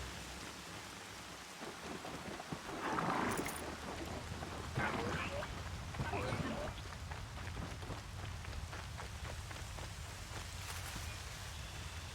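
Steady rain falls in the Horizon Zero Dawn video game, a dense hiss of drops on surfaces with a couple of low rumbling swells partway through.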